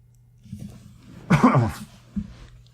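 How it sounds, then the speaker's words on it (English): A man gives one hard, close cough over a faint steady hum, with softer throat noises just before and after it. "he's making me cough like I got cholera or something"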